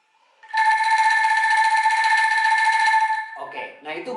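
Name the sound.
angklung playing a long legato tone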